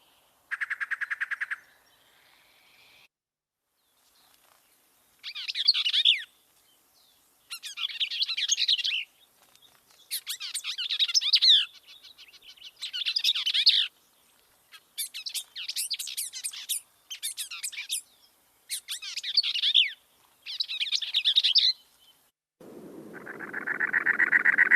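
A songbird in southeastern Arizona sings clear, repeated phrases with long rests between them; each burst is close and bright, and no voices are heard.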